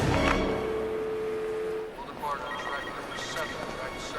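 A telephone rings with bright repeated tones at the start amid the bustle of a busy train station at rush hour, then fades under crowd noise and speech.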